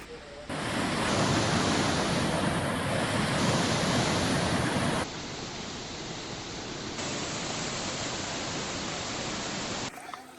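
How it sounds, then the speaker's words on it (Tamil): River water rushing steadily at a rope-assisted river crossing on the Sathuragiri hill trekking trail in Tamil Nadu, a dense continuous wash that is louder at first, then drops slightly and holds. "இப்போ தண்ணி கம்மியாக ஓடுது, மழை பெஞ்சா நெஞ்சு வரைக்கும் தண்ணி போகுமா."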